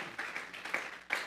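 Scattered hand claps from a church congregation offering applause to God, a few sharp bursts spaced irregularly, moderately close and without talk.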